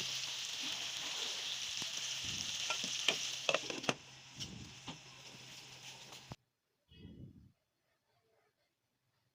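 Tomato cooking down with cauliflower, flat beans and potato in a pan, sizzling steadily while a spoon scrapes and taps through it, then the sound cuts abruptly to near silence with one brief soft rustle.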